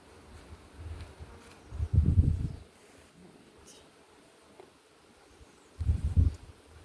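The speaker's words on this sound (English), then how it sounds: "Mix of bees milling around there" Honey bees buzz faintly around an open hive during a summer inspection, a soft steady drone under two louder bursts of rustling or handling noise near the hive.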